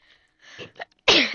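A single loud sneeze bursts out close by, preceded by a few soft breathy intakes and small vocal sounds, then trails off with a falling tone; a French speaker playing a block-building game.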